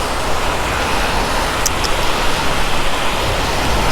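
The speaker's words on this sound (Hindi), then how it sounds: "बहुत तेज बारिश हो रही है" Heavy rain pours during a motorcycle ride from Manali to Delhi, a loud, dense and constant hiss of rainfall and wind that fills the whole stretch with no talking.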